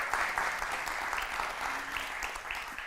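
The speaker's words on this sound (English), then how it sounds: "clapping is in order, applauses are in order." An audience at a forum on modern direct democracy claps steadily, a dense, even wash of applause of moderate loudness lasting throughout.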